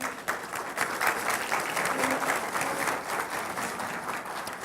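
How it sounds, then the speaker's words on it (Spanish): An audience of a broadcast Catholic Mass program breaks into sustained applause, a broad, even wash of many clapping hands holding steady throughout at moderate loudness, with faint voices mixed in. "Vamos a dar un aplauso."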